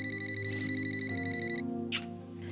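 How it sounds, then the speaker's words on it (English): A mobile phone ringing with a loud, electronic, repeating tonal chime over a steady hum, cutting off partway, followed by faint rustling. "That's my phone. I better get it."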